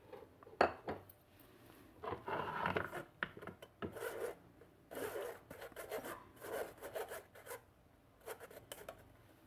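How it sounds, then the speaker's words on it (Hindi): Flour, cocoa powder and baking powder are sifted through a sieve, making rhythmic raspy shaking and scraping bursts with short pauses between, close and fairly soft. "मैदे को, तीनों चीज़ों को 2 से 3 बार अच्छी तरह छान लेंगे"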